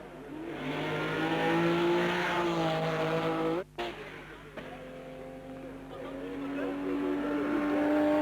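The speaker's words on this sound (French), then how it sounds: "Vous avez entendu le bruit des moteurs de la 7?" Loud, sustained Alpine Renault race car engines roar and rev at Le Mans 1978, pitch climbing steadily, with a brief dropout midway before the engines surge again; a voice talks over them.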